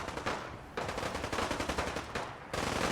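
Rapid automatic gunfire from a video game, dense bursts that briefly let up and then resume at the same loud level, with no talking.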